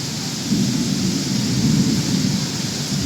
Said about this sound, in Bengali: এই যে যে বাজ পড়ছে বিদ্যুৎ চমকাচ্ছে